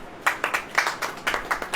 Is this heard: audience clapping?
yes